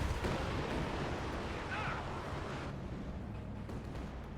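Katyusha rocket barrage slamming into German mortar positions in Company of Heroes 2, heard as a dense continuous rumble of explosions and battle noise throughout, with faint voice underneath.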